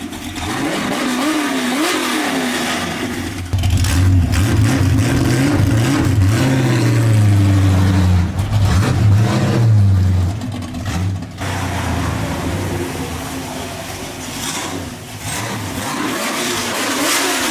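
Repeated revs from the small-block V8 of a 1967 Ford Mustang, rising and falling loudly in several bursts over a steady rumbling idle, heard close up with no talking.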